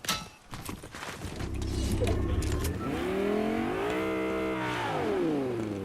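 A car engine revs in the Fortnite video game, its pitch climbing, holding and then dipping in a loud, continuous drone.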